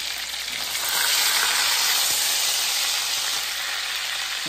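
Cornish hens frying in an Instant Pot Dutch oven after being turned, a loud, steady close-up sizzle and hiss that runs unbroken with no voices over it.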